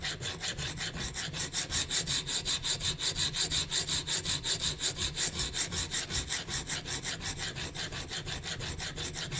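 CPM-S110V knife steel stroked back and forth on an Edge Pro Apex sharpening stone in a fast, even rhythm of gritty rasping passes, close and continuous with no talking.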